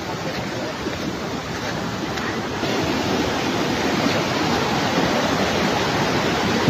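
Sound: floodwater rushing along a road after a cloudburst

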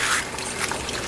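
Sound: small waterfall trickling from a garden pond

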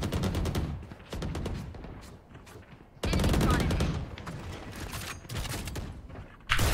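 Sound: gunfire in the video game Valorant

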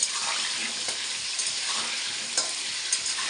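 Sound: potatoes frying in a pan

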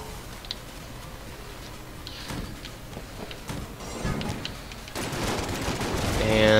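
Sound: shotgun gunfire from a video game

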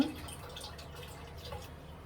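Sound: washing leafy greens in water

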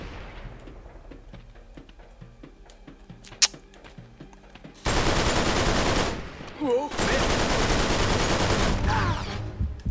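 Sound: gunfire from a big enemy in video game Uncharted 3

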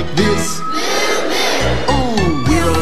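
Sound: crowd imitating a cow's moo in song

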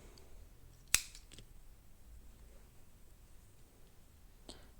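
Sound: scissors cutting crochet yarn

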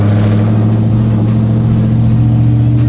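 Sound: sequential burnout truck engine revving as driver gives gas

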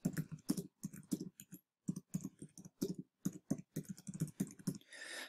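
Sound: typing on a computer keyboard

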